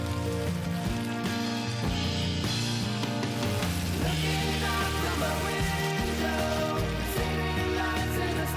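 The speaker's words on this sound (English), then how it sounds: "keep stir frying in high heat." Beef shank, cabbage and fresh tomato stir-fry over high heat, giving a steady, dense sizzle and crackle that stays loud and even without a break.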